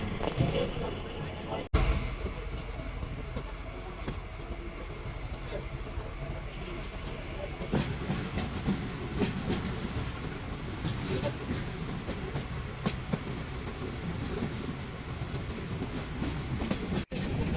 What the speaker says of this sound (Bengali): ঢাকামুখী মহানগর এক্সপ্রেস প্রবেশ করছে ভৈরব রেলওয়ে সেতুতে